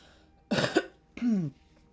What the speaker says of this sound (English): Sometimes I clear my throat during these readings